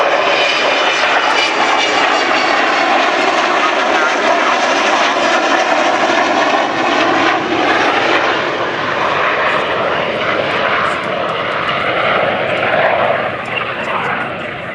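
Avro Vulcan XH558 jet bomber roaring loudly and steadily overhead during a flying display, its engines a continuous dense rumble with a shifting howl as it passes.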